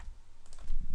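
Typing on a computer keyboard: a quick run of close, light key clicks lasting under a second, with no voices.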